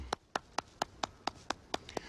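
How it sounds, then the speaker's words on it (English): A single pair of hands clapping steadily for a Mid Pacific Institute Class of 2020 graduation, nine evenly spaced, crisp claps close to the microphone with no crowd. "Nice round of applause for them."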